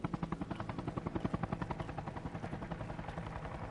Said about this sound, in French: C'est un hélicoptère allié.